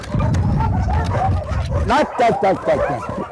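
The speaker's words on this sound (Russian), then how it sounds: "Николая Логинова собаки встречают всегда с особым трепетом" Dogs yip and whimper excitedly close by, with short barks mixed in over a busy background and someone talking.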